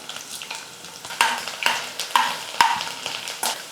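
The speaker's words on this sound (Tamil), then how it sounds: "பூண்டு வந்து நல்லா வந்து வதங்கணும் எண்ணெயில், கலர் மாற அளவுக்கு." Crushed garlic, mustard seeds and dried red chillies sizzle in hot oil for tomato pickle, with a soft continuous frying hiss broken by several sharp stirring scrapes and clinks of a spoon against the pan.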